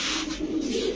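Domestic pigeon cooing close by, a pearl-eyed breed kept among other pigeons at a seller's stall; a soft, steady, throaty coo runs through the whole brief moment with no talk.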